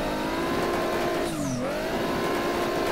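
A loud, continuous race car engine in the rFactor 2 racing game roars steadily, dipping briefly as it shifts and then climbing again, with a short tire squeal in the middle.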